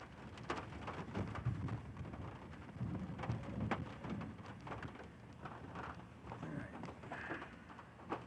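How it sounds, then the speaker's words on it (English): Steady rain patters continuously during a Central Texas thunderstorm, a dense wash of drops with a low background rumble, heard alone without talk. "No, that's just raindrops."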